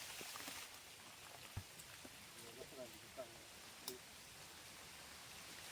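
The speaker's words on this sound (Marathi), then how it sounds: "हा पाऊस पडतोय." Light rain patters softly near a river during a crab-catching outing, with faint scattered drops and clicks over a low, quiet hiss. A soft voice can be heard in the background.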